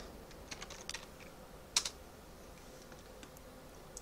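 Quiet, sparse keystrokes on a computer keyboard, a few light clicks followed by a sharper pair, with no voices.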